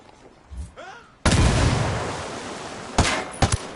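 A frag grenade bursts in the shooter game Ghost Recon Wildlands: a sudden loud, broadband blast that rumbles and slowly decays, followed by a couple of sharp, closer gunshot-like cracks.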